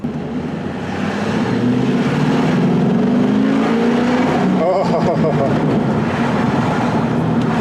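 Deep rumble of an LS3 V8 swapped into a Mazda RX7, a steady loud drone that swells as the engine pulls, with someone talking over it.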